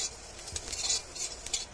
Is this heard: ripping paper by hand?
no